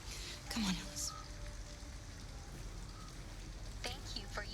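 Steady rain falls in a city street in Detroit: Become Human, a soft continuous hiss with faint splashes and scattered brief background noises.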